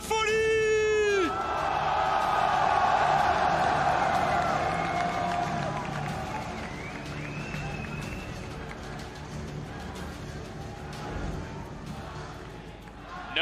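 Arena crowd at the Zénith in Paris for an MSI 2018 esports semifinal between RNG and Fnatic cheering and roaring loudly, with whoops and yells swelling then settling into a sustained hubbub.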